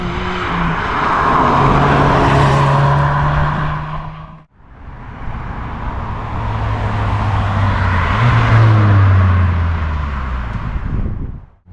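A 2024 Ford Focus ST Edition drives past on an open road, its exhaust rising loud and close with a revving engine note, fading, then a second loud pass that swells and drops away.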